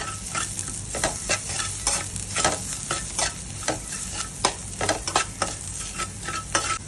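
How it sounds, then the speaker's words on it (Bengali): Onion with turmeric and Kashmiri chili powder fries in a pan, with repeated scraping stir strokes over a continuous low sizzle, close and clear, with no talking. "এখানে আমি একটু অল্প পরিমাণে হলুদ দেব, একটু কাশ্মীরি লঙ্কার গুঁড়ো দেব। ব্যাস, আমি এবারে ফ্রাই করবো একটু।"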